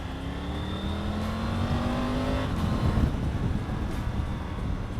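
A Triumph Tiger 900 motorcycle engine revving, its pitch rising steadily then dropping into a rough, loud roar, heard close with wind noise.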